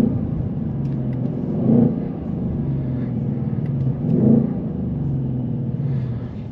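A 2024 Ford Mustang GT with a 5.0L V8, automatic and sport exhaust, rumbles from inside the cabin, a deep steady drone swelling twice as it accelerates, with no talking.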